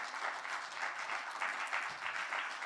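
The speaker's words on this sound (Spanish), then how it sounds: "Dele un fuerte aplauso al Señor." Applause from a church congregation during a Spanish-language sermon, a steady dense patter of many hands clapping together, sustained and moderately loud with no talk over it.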